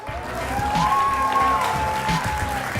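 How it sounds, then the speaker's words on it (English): A crowd applauds at a live Clash Royale tournament in Helsinki, with steady clapping and murmuring while a tone and some background sound run underneath. "Ladies and gentlemen, round of applause"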